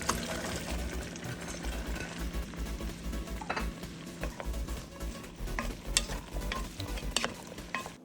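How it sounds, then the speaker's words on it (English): Onion and celery sauté in bacon grease in a pan for shrimp, a soft steady sizzle broken by scraping stirs and occasional utensil clicks. "we've added the onion and the celery to the grease in the pan. We're sauteing that right now"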